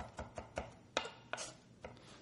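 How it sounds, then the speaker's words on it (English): Knife chopping a garlic clove on a board, about eight sharp, quiet taps at an uneven pace, close and alone. "same type of chopping"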